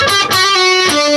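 A short electric guitar phrase from a riff, a few bright, slightly driven notes sliding between pitches, loud and up close with no voices.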